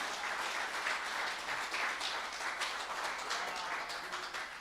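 A church congregation applauding together, a dense, even wash of clapping that holds steady and fills the room for several seconds before easing slightly at the end.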